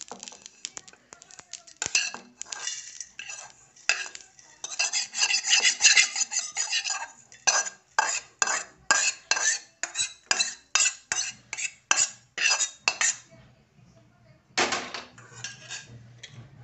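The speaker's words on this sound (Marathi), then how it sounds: "भाजलेत मी, आता हे ताटात काढून घेते थंड करायला" Dry-roasted spices for a village-style mutton rassa are scraped from a pan onto a plate: a close series of rhythmic rasping scrapes and metallic scratches, quickening in the middle, with short pauses between strokes.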